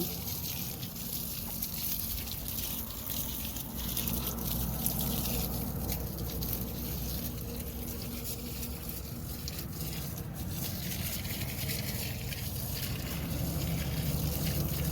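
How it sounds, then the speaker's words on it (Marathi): Continuous splashing and trickling of running water poured onto soil and leaves of grapevines in a vineyard, steady and close for the whole stretch, with no talking. "असं मी पाणी देते झाडात"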